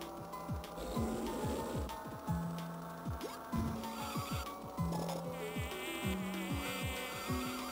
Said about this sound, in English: The mosquitoes sound like Peter Griffin.